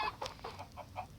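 Minecraft chicken making a few soft, quick clucks, faint and brief, with no voices.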